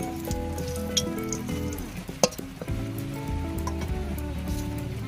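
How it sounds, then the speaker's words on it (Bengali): Dry red chilies fry in hot mustard oil, a steady close sizzle with a few small clinks and one sharp knock partway through. "দিয়ে দিচ্ছি শুকনো লঙ্কা ফোড়ন"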